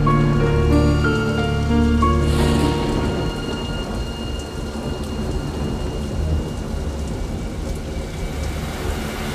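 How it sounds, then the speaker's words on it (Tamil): Steady heavy rain pours over a thunderstorm, with a loud rumble of thunder in the first few seconds fading into continuous rainfall with no voices. "மழை ஆரம்பித்தது."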